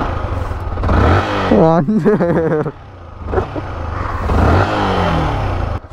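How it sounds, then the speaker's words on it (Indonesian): A Yamaha R15 V1 motorcycle on its stock exhaust revs in a few sharp bursts, the engine note climbing and falling close by, with someone talking briefly over it. "Suaranya kayak gini, bro. Knalpot standar."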